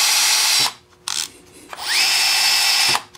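A Festool T18+3 cordless drill whirs at high speed in several short bursts, spinning up, cutting off and restarting close by with no talk over it.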